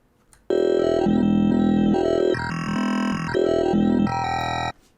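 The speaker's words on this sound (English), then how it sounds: "You can hear that we've imparted a minor kind of chord on top of this wavetable." A Serum wavetable synth sounds with a minor chord imparted onto its tone, a loud harmonic note of about four seconds that steps through several pitch and timbre changes in a repeating pattern, with no voices.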